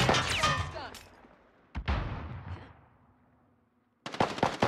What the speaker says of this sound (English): I'm getting shot through this one.